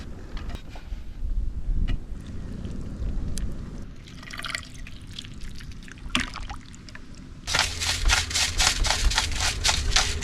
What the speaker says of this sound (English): We're gonna move because it is windy out here, boy.